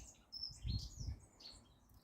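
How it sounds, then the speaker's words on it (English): Birds chirping in a cottage garden on a quiet February day, thin high tweets and warbles at moderate distance over a low rumble of background noise, with no talking. "As you can hear, it's very quiet today, but the birds are super busy in the garden"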